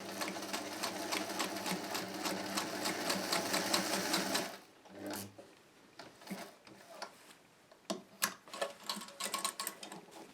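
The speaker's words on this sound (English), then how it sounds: "let's get that sewn together and then we're nearly finished" A sewing machine stitches a collar seam with a fast, steady mechanical whir for about four seconds, then stops, leaving quieter handling and shuffling noises with a few sharp clicks.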